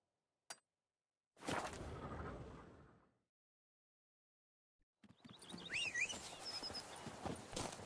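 Horse hooves clip-clopping in The Witcher 3: Wild Hunt, a brief click, then a burst of hoofbeats that fades, a pause, and more hoofbeats mixed with game sounds.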